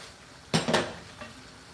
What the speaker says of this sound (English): Let me stir this away.